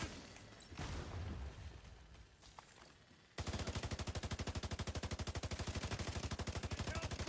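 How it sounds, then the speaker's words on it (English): Rapid automatic gunfire from the video game The Division, a steady stream of loud, evenly spaced shots starting abruptly partway through after quieter game ambience, continuing without pause to the end. "You can shoot other players in this game."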